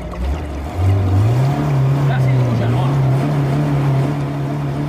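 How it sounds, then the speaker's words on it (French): A motor pump drawing up spring water starts with a low hum that rises and settles into a steady droning tone, running continuously under someone speaking French. "Là c'est le moteur qui aspire l'eau là."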